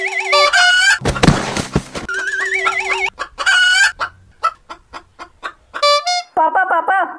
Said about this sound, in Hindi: पापा पापा, मुर्गा घुसा है घर के अंदर।